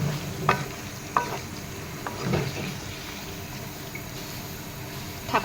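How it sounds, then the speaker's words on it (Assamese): Ginger-garlic paste and spices, including chili and cumin, are stirred in a pan for a chicken and potato curry, giving a soft sizzle with a few scraping clinks of the spoon at close range. "এইখিনি অলপ কৰি লৰাই দিম।"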